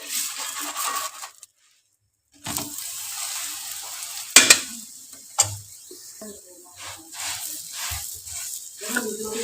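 Ghee spread on a makki ki roti on a hot griddle sizzles in short bursts, with sharp clinks and scrapes of the spreading utensil between quieter gaps.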